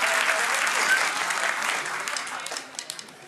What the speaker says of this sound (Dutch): Geef hem nog een applaus.